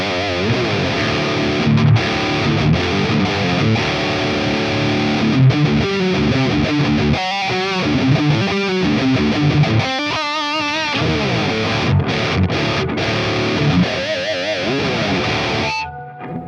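Heavily distorted electric guitar through the channel 3 high-gain setting of an ML Sound Lab Amped CB4 amp plugin, playing loud, dense chugging riffs and sustained chords for the whole stretch, with no talk.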